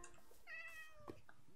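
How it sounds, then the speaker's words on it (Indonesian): A cat in the Minecraft video game meows twice in quick succession, a clear, close, rising-and-falling cry over quiet game ambience with no talking. "Kenapa ada suara kucing di sini? Ya ampun, ada kucing yang terjebak di dalam perahu."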